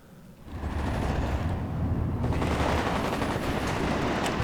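Urban gunfight in the game WARNO, with dense overlapping bursts of rifle and machine-gun fire crackling continuously and loudly across a town, sounding near, with no one talking.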